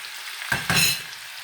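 Potatoes drop into hot oil with a sudden burst of sizzling, crackling loudly and close at first, then settling into a softer, steady frying hiss, with no talking.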